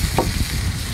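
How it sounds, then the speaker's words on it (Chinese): Scallion, ginger and garlic stir-fried with Lao Gan Ma chili sauce in a small pot, giving a steady close sizzle with brief scraping stirs throughout. "葱姜蒜爆香，来点老干妈"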